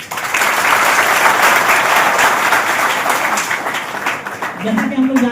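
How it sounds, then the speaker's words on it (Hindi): Loud, sustained applause from the attendees welcoming a guest at a three-day AI and machine learning workshop, dense clapping that fills about five seconds and tapers at the end. "तो हम सब उनका एक अभिनंदन करें एक अच्छे गर्माहट तालियों के साथ।"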